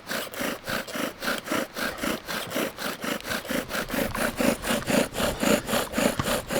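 Wooden friction fire drill worked in long, full-length strokes, grinding wood into dust: a steady rhythmic rasping, about three strokes per second, close and moderately loud with no talk.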